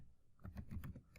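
Quick keystrokes on a computer keyboard, a short burst of about six soft, closely spaced clicks, faint and alone.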